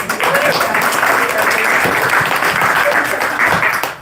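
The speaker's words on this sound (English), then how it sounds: "So if you can give her a big round of applause." An audience at a book reading in a bookstore applauds steadily, a dense patter of many hands clapping that carries through the whole stretch, loud and close, with some voices mixed underneath.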